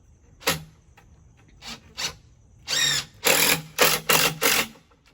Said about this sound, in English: we're just putting the screws in the pocket holes